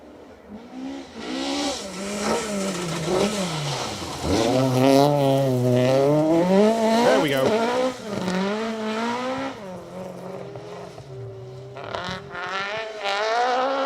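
A loud rally car engine roars close by on an RAC Rally stage, pitch climbing and falling through gear changes as it drives past, with no talking.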